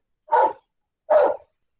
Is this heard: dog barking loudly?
yes